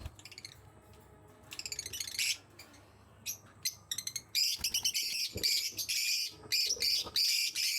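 A flock of pet lovebirds on a balcony chirps in rapid bursts, with bright repeated tweets and squeaks that grow busier and louder toward the end. The birds are close to the listener, and no one speaks.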